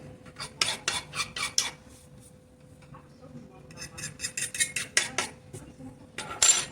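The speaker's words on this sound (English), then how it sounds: "I'm just taking the fork, using it to scrape away the crumbly residue that I created" A fork scrapes crumbly residue off a sculpted beard on a re-created old piece, making repeated quick, close scratchy strokes in bursts with short pauses between them.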